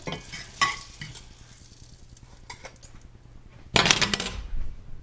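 Sourdough biscuits frying in butter and bacon grease crackle and sizzle close by, with clinks of a pan and utensils, then a loud fresh burst of frying as another piece goes into the hot fat.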